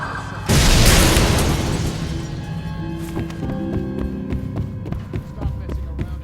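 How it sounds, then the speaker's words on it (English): A giant explosion erupts in the middle of a street in the game Dishonored, a loud sudden boom followed by a long rumbling decay. Crackling debris and scattered game sounds ring out after it. "A giant explosion in the middle of the street."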